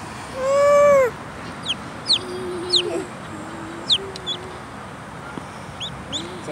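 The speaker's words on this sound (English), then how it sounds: "Look at that, baby chickies." Baby chicks on a farm, two black and three blonde, give a few thin, high peeps and chirps, scattered and close by, after one louder opening call with faint background noise.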